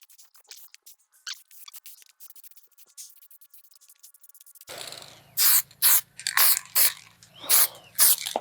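Short bursts of nitro gloss lacquer spray hiss in a steady series onto a Squier Bullet Stratocaster guitar body, each a few tenths of a second long, following quieter scraping and clicking.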